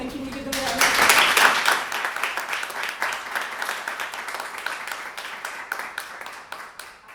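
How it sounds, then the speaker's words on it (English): An audience at a green careers event bursts into applause after brief talk, the clapping swelling quickly, then settling into steady, moderately loud clapping that thins toward the end. "can you give them a round of applause?"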